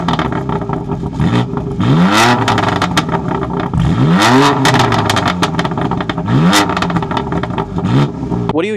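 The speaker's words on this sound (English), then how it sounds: "What you just heard was a 3-liter twin-turbo V6." A BMW M3 Competition's 3-liter twin-turbo engine revs hard through its quad exhaust, with several loud rising and falling sweeps and sharp pops between them.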